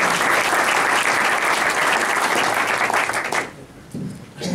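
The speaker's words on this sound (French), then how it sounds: "On t'applaudit encore une fois." An audience at a fintech startup event claps steadily in loud, sustained applause for about three seconds, then it dies away into quiet room noise.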